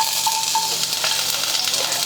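Mustard seeds, cumin and crushed garlic sizzle in hot oil as a tempering for tomato rasam: a steady, close hiss with small crackles and pops and no talking.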